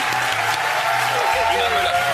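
Studio audience applause on a German TV entertainment show, continuous clapping washing under someone talking throughout the short stretch.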